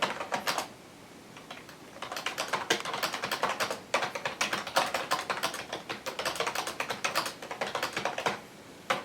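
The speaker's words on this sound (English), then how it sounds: "So here we are in a Notepad app that we downloaded, and we can test out typing." Steady, rapid typing on a Toshiba Thrive portable PC keyboard with crisp key clicks, pausing briefly a couple of times before continuing, close and fairly loud with no talking.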